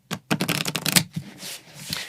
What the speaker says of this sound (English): so that this way you have an accurately shuffled deck